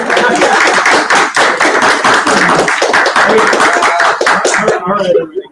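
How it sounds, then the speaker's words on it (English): Live audience at a SolidWorks introductory session claps steadily and loudly for several seconds, dense overlapping hand claps that taper off near the end. "Everybody clap for that."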